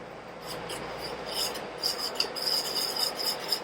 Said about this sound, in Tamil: விட்டுட்டு நம்ம இந்த மாவை கரைச்சி எடுத்துக்கலாங்க.